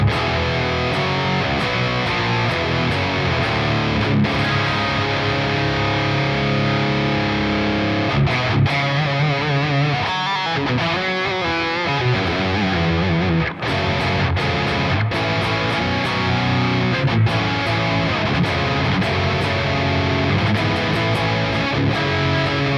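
Electric guitar jamming through heavy distortion and excessive reverb, with dense sustained chords, a short break of choppy riffing midway, then a continued loud, washed-out wall of sound.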